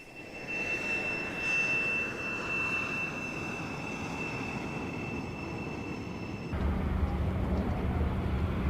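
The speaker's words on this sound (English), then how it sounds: "The world's first jet trainer was the Fougueux Magister, entering service with the French Air Force in 1954." A Fouga Magister jet trainer flies past at an airshow, a steady roaring jet with a high whine that cuts off abruptly into a louder, lower rumble.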